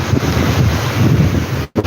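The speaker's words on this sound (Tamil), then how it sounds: "காற்று நல்லா அடிச்சிட்ருக்கு" Strong sea wind blows across Poompuhar beach, a loud, continuous buffeting roar against the microphone with a brief dropout near the end and no talking.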